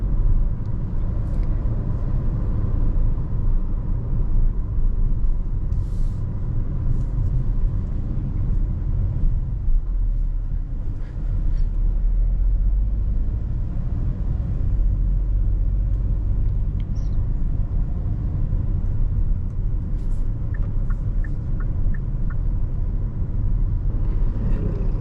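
A Kia Sonet GTX Plus with a 7DCT gearbox moves through city traffic, a low, even cabin rumble running quietly and continuously throughout.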